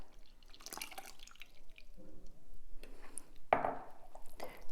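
Wet ingredients are poured into a well of dry ingredients for pancake batter in a home kitchen, heard as faint, sparse drips and splashes with a few soft clinks of a bowl and utensil.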